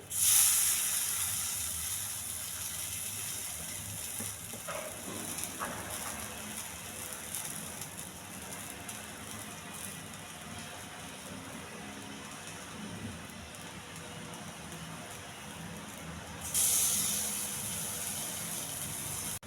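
Vada shallow-frying in a pan with only a little oil, a steady soft sizzle and hiss running throughout with a brief louder crackle near the end, close and without talk.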